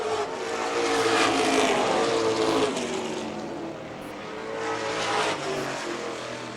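Pro stock race cars roar through a heat race, a loud, sustained engine drone that rises and eases slightly as the cars pass, with no talk over it.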